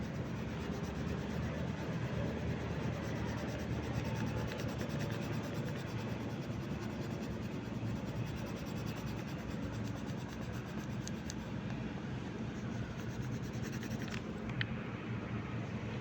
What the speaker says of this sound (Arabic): يلا خلينا نلون هذا القلب